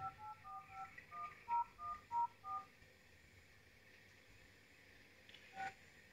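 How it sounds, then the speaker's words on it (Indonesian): A Vivo Y71 smartphone plays a quick run of about ten distinct dialing tones as a call is placed, then falls nearly silent before one more short tone near the end. "Coba kita tes aja nelpon."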